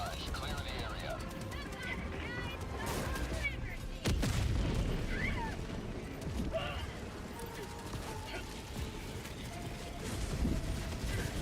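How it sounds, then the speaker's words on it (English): Helldivers 2 battle against the Illuminate, with a napalm strike and orbital barrage going off as muffled booms and rumbling blasts, one sharp heavy impact standing out, under continuous chaotic battle noise and a talking voice. "gonna throw a napalm strike at those people. Firing orbital barrage."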